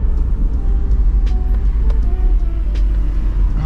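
A Nissan 240SX drives along in a steady low rumble of engine and road noise, loud and close from inside the car, with a few faint clicks and rattles.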